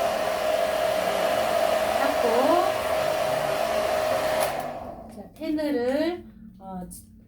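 A hair dryer blows steadily with a constant whine while blow-drying a section of hair, then cuts off abruptly; afterward a voice talks briefly in a quieter room.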